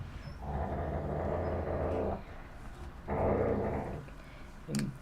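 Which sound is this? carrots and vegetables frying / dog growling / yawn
dog growling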